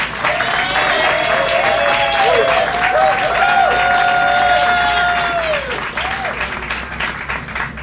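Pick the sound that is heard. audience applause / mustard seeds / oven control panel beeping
audience applause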